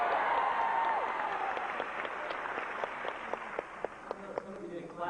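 Families in a crowd clap at a Marine boot camp graduation, a dense wash of applause that slowly thins out, with a few sharp, isolated claps standing out near the end and a voice briefly heard early on.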